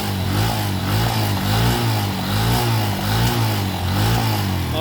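A motorcycle engine runs close by on half choke after a tune-up, with a steady throb, its revs rising and falling slightly in smooth waves.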